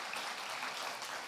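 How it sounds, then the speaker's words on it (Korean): Brief, fairly soft applause from a church congregation at a Friday prayer meeting, an even wash of clapping with no clear voices on top. "그런 마음으로 박수하겠습니다."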